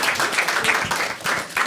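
Audience applause and clapping at a Marathi stand-up comedy crowd-work show, a steady dense wash of many hands lasting under two seconds, with faint voices underneath.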